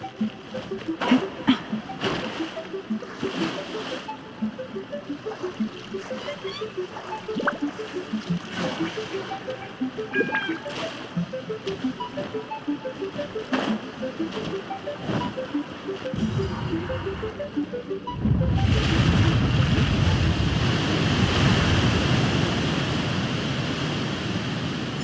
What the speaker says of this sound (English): The water's flowed into the groove,